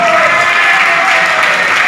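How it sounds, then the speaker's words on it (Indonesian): A church crowd at a Bible quiz competition claps loud and close, a dense, even wall of applause that holds steady for about two seconds with voices faintly mixed in. "Tepuk tangan."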